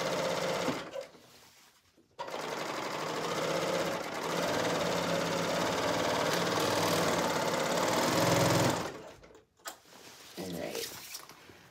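Sewing machine stitching side seams through silky, slippery fabric, a steady motor whir running continuously for several seconds with brief pauses at the start and end, close and moderately loud.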